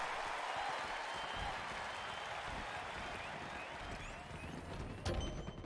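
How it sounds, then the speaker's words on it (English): A round of applause during a Halo Rec League esports match broadcast, steady dense clapping from a crowd that fills the whole stretch at moderate level, with a louder burst near the end. "I'm going to give him a round of applause"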